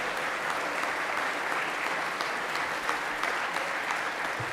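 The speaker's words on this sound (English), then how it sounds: "If you guys all want to just stand and receive a nice round of applause" Sustained applause from an audience at a school chapel service, a steady dense wash of clapping hands that continues evenly throughout.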